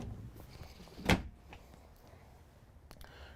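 A single quiet sliding thud near the middle, like a drawer being pushed shut in the bedroom of a 2015 Newmar Ventana 3436 motorhome, with faint rustling before and after.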